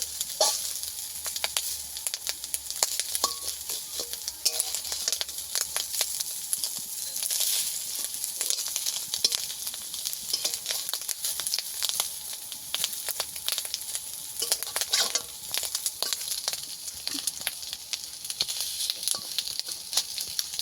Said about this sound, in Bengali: এবার আমি ডিমগুলো একটু পিস পিস করে কেটে নেব, খন্তি দিয়ে এরকম পিস পিস করে নেব।